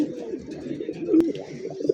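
Kashmiri racer pigeons coo softly and continuously at close range, a low rolling murmur that swells briefly midway, with no clear speech over it.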